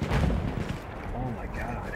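Loud gunfire in the video game Battlefield 1, a heavy booming shot up front followed by rumbling echoes and softer distant battle noise.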